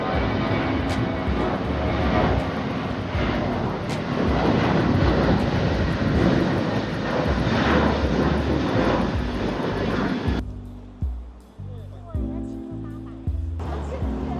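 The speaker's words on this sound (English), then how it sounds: "Oh, there's Another plane." A Uni Air ATR 72 turboprop airliner roars steadily overhead for about ten seconds, then fades out abruptly into quieter background sounds.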